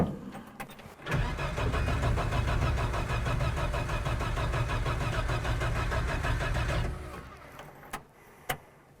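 An old car's engine cranks and catches about a second in, then runs loud and rough at a steady idle for several seconds before cutting off, followed by a few sharp clicks.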